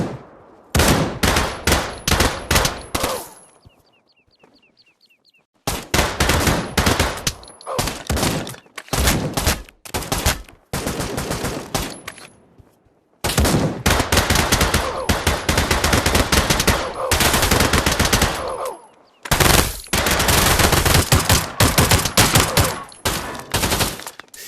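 Rapid automatic gunfire in the Pavlov VR multiplayer shooter on Oculus Quest, loud dense bursts with brief gaps between volleys, continuing for most of the stretch.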